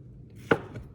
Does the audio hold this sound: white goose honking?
no